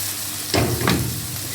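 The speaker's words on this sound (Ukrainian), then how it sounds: "Нам потрібно її підсмажити до золотистого кольору." Chicken livers with pear and a sprinkling of sugar frying in a pan, heard as a steady low sizzle with two short, louder bursts of stirring close by.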